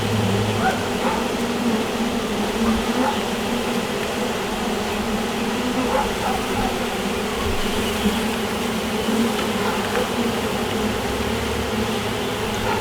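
A swarm of packaged honey bees buzzes steadily around an open beehive as they are hived, a dense, close drone that continues throughout, with occasional speech underneath.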